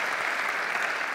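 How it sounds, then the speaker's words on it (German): A live podcast audience bursts into brief, dense applause, steady and close for about a second. "Einen Applaus."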